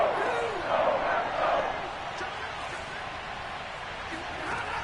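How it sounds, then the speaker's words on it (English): Stadium crowd in Madden 22 football, a broad steady roar of cheering that swells and dips under a commentator's voice calling a big third-down play. "The crowd getting into it as we come up on a big third down."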